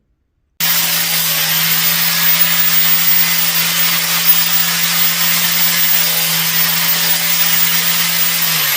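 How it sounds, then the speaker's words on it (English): Power tool grinding or wire-brushing rust and nubs off a metal half pipe while a branding iron is being made, a steady loud abrasive whir with a constant hum running throughout. "clean the rust off of that piece of half pipe"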